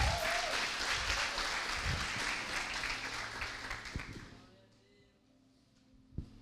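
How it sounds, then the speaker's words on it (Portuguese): A church congregation at a Sunday service applauds a young woman called up front, the clapping strong at first and then fading away to quiet room tone, with a brief thump near the end. "vamos aplaudir a Amandinha"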